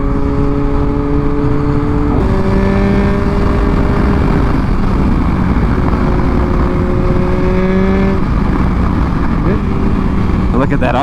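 A 2021 Yamaha MT-09 motorcycle engine revs up and down as the throttle is blipped repeatedly, its tone rising and falling in steps, loud and close, with wind noise over the ride.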